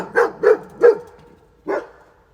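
A dog barks three times in quick succession, loud and close, then pauses before one more bark.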